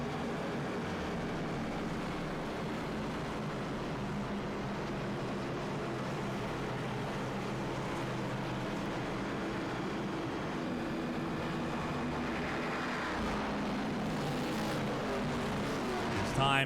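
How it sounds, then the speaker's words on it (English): Race cars at California Speedway before the 2007 Auto Club 500 Winston Cup race, a steady loud engine roar from the field heard from a distance, continuous throughout with slight swells near the end. "Letting the cars get loud here at California Speedway"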